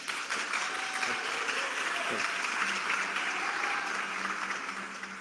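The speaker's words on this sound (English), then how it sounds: "And a great applause for the people who did that, indeed." An audience applauding at a talk on the European Parliament, with dense, steady clapping that holds at an even level for several seconds before easing off slightly at the end.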